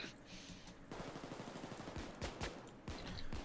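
Rapid gunfire in the heist shooter Payday 2 as a civilian is shot, a burst of sharp cracks with several louder reports near the end, over steady game background noise.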